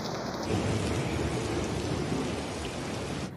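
Heavy rain pours steadily outside the flooded Afogados station, a dense, loud wash of falling water with a low rumble beneath it and no voices.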